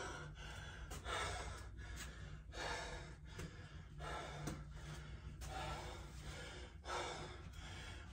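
Heavy, rhythmic breathing of someone catching their breath after a workout, with repeated close gasping inhales and exhales at roughly one-second intervals, quiet and steady throughout.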